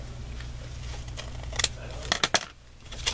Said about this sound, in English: just take a pair of scissors and trim them